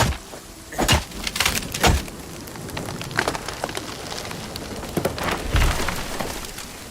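Steady rain falls outdoors in the Nightingale crafting game, a continuous hiss of drops with occasional sharper taps and crackles, moderately loud and unbroken by talk.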